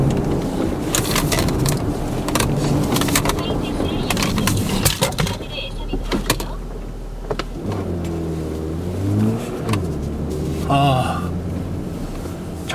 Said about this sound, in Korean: 지금 차고 있는 차는 4E 하이브리드 모델입니다.